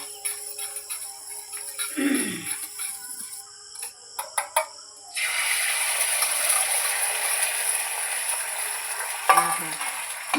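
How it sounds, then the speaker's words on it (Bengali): Roll flatbreads frying in a home kitchen pan: a few scraping and clicking handling sounds first, then a steady, broad sizzle that holds for several seconds, with a brief rustle near the end. "রোলের রুটিগুলো ভেজে নিয়েছি"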